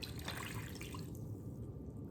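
1.5 cups of water is poured into muffin batter in a faint, brief splashing trickle that fades toward the end.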